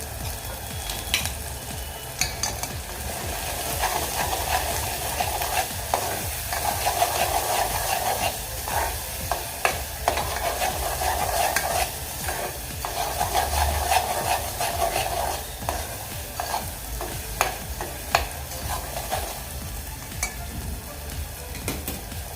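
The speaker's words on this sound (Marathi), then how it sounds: "कांदा लसूण मसाला गरम मसाला आणि धणे पावडर आता आपण हे व्यवस्थित मिक्स करून घेऊयात" Turmeric, red chilli, onion-garlic masala, garam masala and coriander powder stirred in a sizzling pan for Puneri misal, a dense continuous fry hiss with frequent scraping clicks and knocks of the spoon, close and steady.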